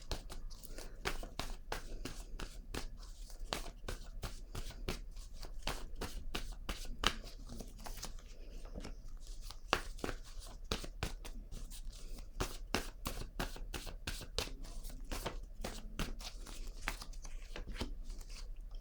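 Tarot cards being shuffled by hand, a long run of quick crisp riffles and soft papery flicks in a steady rhythm, close and quiet, with no talking.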